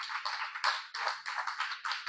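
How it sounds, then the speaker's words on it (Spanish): A church congregation claps together in applause, a quick run of about eight sharp, fairly even claps heard close and fairly loud with no voices. "Un aplauso al Señor"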